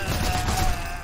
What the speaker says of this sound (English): Because I hear gunshots.